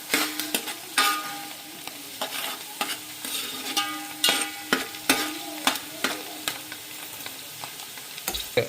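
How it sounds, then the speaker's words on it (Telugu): A spatula stirs a country chicken curry mixture with onions and green chillies in a pan, producing a steady run of sharp scraping strokes roughly every half second over a faint, close sizzle, with no talk. "బాగా మిశ్రమాన్ని ఒకసారి కలుపుకోండి."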